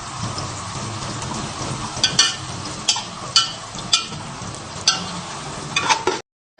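Raisins and carrots frying together in hot oil for Bukhari rice, a steady close sizzle and crackle with periodic stirring scrapes and pops throughout, no voices.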